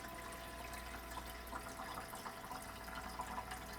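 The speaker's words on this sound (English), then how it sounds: "it will fill this up with water up here" A Frigidaire EFIC-189 compact bullet ice maker fills with water, a steady trickling and light splashing over a constant low hum, faint and continuous without any talk.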